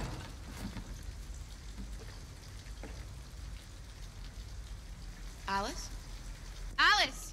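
Steady rain hisses throughout a scene in the video game Detroit: Become Human, a soft even wash with scattered drops. Brief voices cut in near the end.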